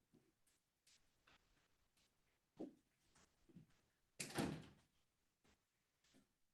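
A door is closed indoors in a home with a dog nearby: a sharp, fairly loud thud stands out among quieter shuffles and handling sounds, all faint and close, with no voices.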